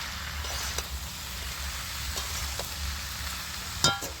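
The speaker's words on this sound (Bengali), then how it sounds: "হলুদ, এই সব সবজিগুলো আমি এবার ভালো করে নেড়ে ছেড়ে" Vegetables with turmeric and salt fry in a pan for a fish-head pumpkin ghonto, giving a continuous soft sizzle with a few light stirring taps and one louder scrape near the end, no talking.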